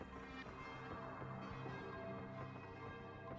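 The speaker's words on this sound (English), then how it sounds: "Above you, the bells toll again." Church bells toll slowly over a ruined, war-ravaged landscape, their ringing partials droning steadily and evenly through the whole stretch without any voices.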